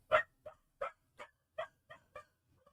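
A dog barks seven times in a steady, evenly spaced series, moderately far off and fairly quiet, with no other sound between the barks.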